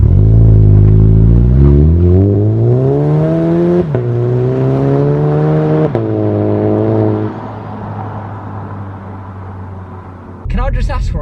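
Car with a newly fitted exhaust driving, engine tone rising steadily through the gears with brief shift dips, loud and close, then settling to a lower drone before a burst of noise at the end.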